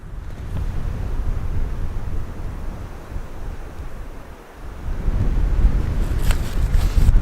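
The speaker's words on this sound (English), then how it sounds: "It's a little windy" Strong wind buffets the microphone in a continuous low roar, swelling louder toward the end, outdoors in a snowy forest near a frozen lake.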